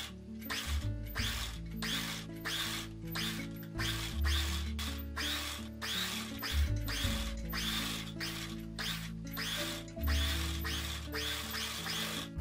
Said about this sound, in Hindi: अब हम यहाँ किनारे से सिलाई लगाएंगे।